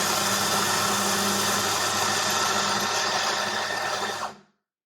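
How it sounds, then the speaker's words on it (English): A Ceado E37S coffee grinder grinds espresso into a portafilter with a loud, steady motor whir and burr hiss that runs continuously for about four seconds, then cuts off abruptly into silence. "I'm gonna now insert the portafilter and it will start grinding"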